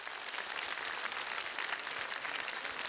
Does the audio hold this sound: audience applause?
yes